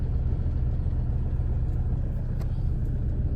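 An auto rickshaw's engine runs steadily close by, a constant low rumbling chug with faint higher rattles, even in level throughout with no speech.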